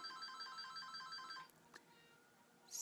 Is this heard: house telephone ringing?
yes